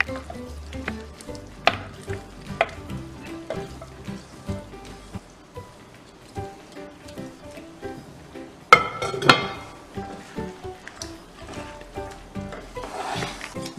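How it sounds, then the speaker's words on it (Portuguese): Lemons and garlic sizzle in a pot of melting sugar while making a lemon syrup, an uneven crackling fry with clinks and scrapes of stirring, louder bursts near the end. "o limão e o alho estão dourando"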